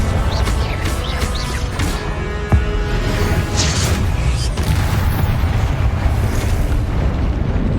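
A fiery Confringo spell explodes in Hogwarts Legacy amid a loud, continuous rumble of combat, with a sharp crack early on and a booming burst trailing off into a rolling roar.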